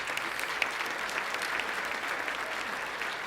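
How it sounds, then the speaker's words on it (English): Luncheon guests give the United Way staff a round of applause, steady dense clapping from a large room throughout, with no talk over it. "Give them a round of applause."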